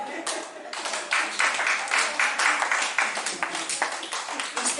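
A church congregation applauds together to acclaim Jesus, a loud sustained crowd of claps with rhythmic surges, close and dense, filling the space without speech over it.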